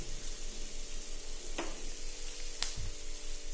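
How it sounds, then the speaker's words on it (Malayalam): Boiling water poured into roasted semolina for rava upma, a steady hiss and sizzle filling the pan with a couple of sharper bursts, close and continuous with no voices. "അതിൽ 2 ഗ്ലാസ് ഏതാണ്ട് ഇതിലേക്ക് ഞാൻ ഒഴിച്ചു കൊടുക്കുന്നുണ്ട്."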